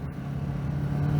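A Kawasaki Z650 motorcycle pulls uphill in a low gear, its engine a close, steady low drone that builds slightly over a brief moment.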